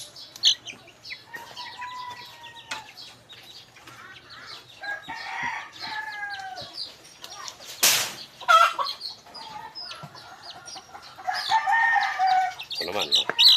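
Chicks kept for sale cheep and peep in high thin calls, close by and frequent, with clucking fowl and other bird chirps mixed in throughout.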